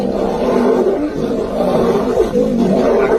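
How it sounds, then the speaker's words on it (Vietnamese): Lions roar continuously during a fierce fight for pride leadership, two challengers against the ruling male. The growls and roars are loud, dense and close, rising and falling in overlapping bursts with no pause. "Tiếng gầm vang dội, những cú vồ mạnh mẽ tạo nên một trận chiến quyết liệt đầy máu me."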